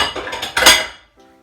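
Bowls go down into a kitchen sink with a short run of clattering knocks that ends in one louder clank and a brief ringing tail, close and clear.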